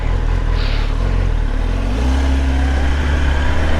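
A 2025 Kawasaki Ninja ZX-10R sport motorcycle engine roars loudly and close while riding, its pitch climbing as it accelerates, with steady rumbling and rushing wind throughout.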